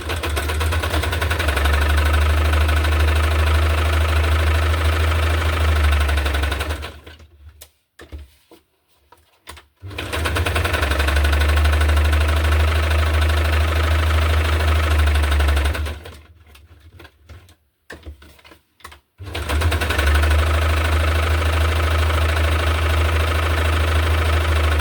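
Sewing machine stitching pages of a hardcover junk journal, a loud, steady mechanical hum in long runs of several seconds, each broken by a short near-silent pause before stitching resumes.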